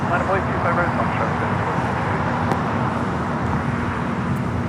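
An airliner roars steadily during takeoff at LAX, a broad continuous rumble close by with a faint voice underneath.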